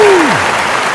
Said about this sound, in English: can we get a round of applause for that, please?